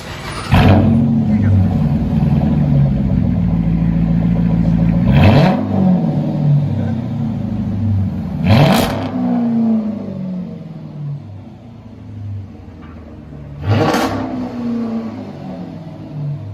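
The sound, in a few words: Chrysler 300 5.7L HEMI V8 revving with Dynomax race bullet exhaust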